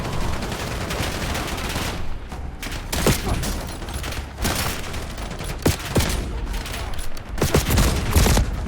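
Gunfire in the Black Ops 7 video game fills a combat mission aboard a barge: rapid automatic bursts and sharp individual shots crackle continuously, loud and close, under a steady battle din.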